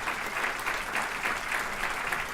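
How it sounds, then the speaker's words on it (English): Audience applause for Torrance mayor Pat Fury at a regional address, a steady wash of many hands clapping throughout the short stretch, moderately loud and without voices. "Give him a big round of applause."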